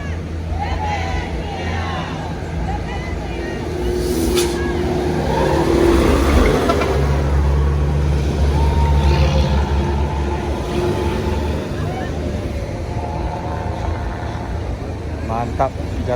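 A Yanti Group tour bus travels a mountain road toward Bukittinggi amid other buses and trucks, its engine a loud, rising and falling rumble with passing traffic and crowd chatter mixed in.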